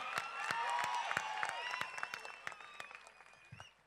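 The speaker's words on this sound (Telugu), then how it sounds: "గట్టిగా చప్పట్లతో రెండు చేయిలు ఉన్నోళ్ళు రెండు చేతులతో గట్టి కొట్టాలి" Loud applause fills a film pre-release event in Hyderabad as a large audience claps hard, dense and sustained throughout and tapering slightly toward the end.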